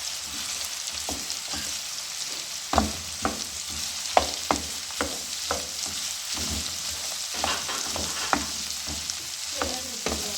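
Shredded cabbage fries in a pan for chicken spaghetti: a steady sizzle, broken by repeated sharp clinks and scrapes of a spoon stirring against the pan.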